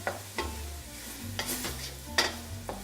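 Fresh tomato sauce with red chili flakes, basil and dried oregano stirred in a pan, soft sizzling under several sharp spoon scrapes and clacks at an uneven pace, close by and without talk.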